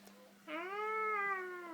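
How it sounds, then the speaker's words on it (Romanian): A single drawn-out cat meow rises and slowly falls, close and clear against a quiet room with a faint steady hum beneath. "Uite pisica acolo, uite. Ia uite cum face, tata."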